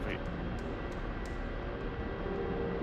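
Helicopter rotor blades and engine in the DCS World flight simulator give a steady, continuous drone that fills the whole stretch without pause, at a moderate level.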